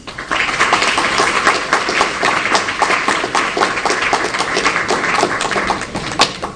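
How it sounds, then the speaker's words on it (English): A luncheon audience at a CCIM Greater Los Angeles installation gives sustained, dense applause for architect David Hume, close and steady throughout. "let me have you give a big round of applause to our architect friend and, most importantly, CCIM, David Hume"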